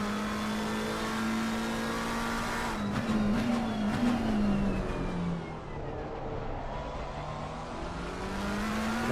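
A Lamborghini race car in a Suzuka sim racing game holds a continuous droning engine note that rises and falls with shifts and revs, close and steady throughout.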